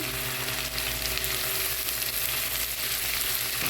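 Onion fries with ginger and garlic paste in hot oil, a dense, even sizzle holding steady throughout at close range with a low background hum and no talking.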